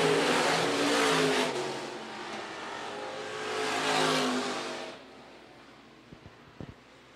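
Stock cars race around a dirt oval at Phillips County Raceway, their engines roaring loudly as they pass close by in two surges, then fading to a distant hum with faint crowd and track noises.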